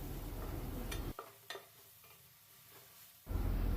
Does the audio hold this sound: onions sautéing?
yes